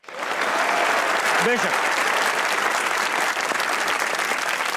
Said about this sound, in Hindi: तो तालियां बजाइए